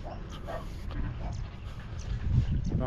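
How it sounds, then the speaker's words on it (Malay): A dog barks and whimpers faintly in the distance outdoors, near an old stone inscription site, with a few soft yips over a low background rumble. "Sekarang ada anjing ni dah."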